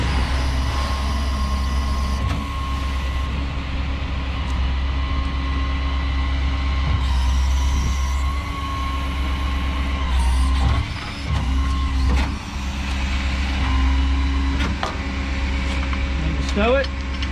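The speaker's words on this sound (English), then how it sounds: "I'm booming down, I'm rotating to the right, and I'm running the winch line in all at the same time." A 2250 crane body works hydraulically, booming down, rotating right and reeling in its winch line together, giving a steady loud mechanical hum with a constant whine, broken by a few sharp clanks and knocks near the end.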